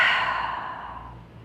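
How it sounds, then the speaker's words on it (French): A single long, breathy exhale during a gentle yoga stretch for lower back relief, close and clear, fading steadily over about a second and a half. "Et on expire."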